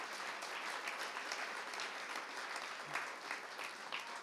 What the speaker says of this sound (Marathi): दोघींच्या कलेला देऊया एकदा टाळ्या वाजवून परत एकदा दार